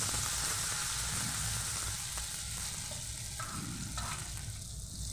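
Cauliflower pieces for gobi manchurian fry in hot oil, a dense continuous close sizzle and bubbling hiss, steady and loud throughout with no voices.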